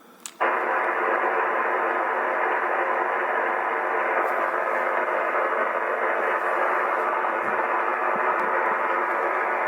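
Steady loud shortwave amateur radio static hisses continuously after a brief click, a dense unbroken wash of noise with faint tones underneath.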